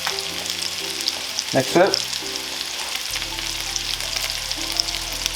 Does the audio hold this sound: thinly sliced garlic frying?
yes